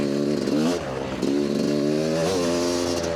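A motorcycle at full throttle on a speed run, loud and close, its engine note climbing and falling through gear changes with a strong harmonic whine.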